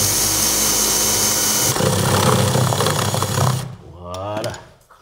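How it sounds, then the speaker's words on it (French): A power drill bores holes for multilayer pipe clamps during a kitchen renovation, running loud and steady for several seconds, then changing pitch before winding down near the end. "Et il faut que je fasse mes trous."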